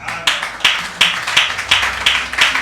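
A congregation at a Sunday church service applauding together, about eight evenly spaced loud claps in a steady rhythm, close and clear.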